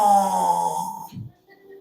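A man imitates his own snoring with his voice, a single drawn-out nasal rasp that fades off into a short throaty rattle, loud and close with no other talk.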